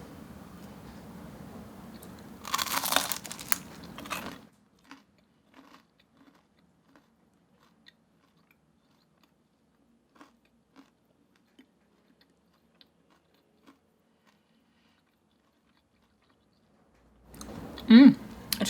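A couple of crisp, crunchy bites and chews of oven-baked tasty supermarket cheddar, crackling close to the mic in short bursts at the start and end, separated by near silence.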